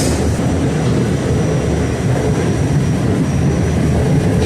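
An old R44 subway train rides at speed, a loud continuous rumbling roar of wheels and car body with a faint high whine, steady and close from inside the car.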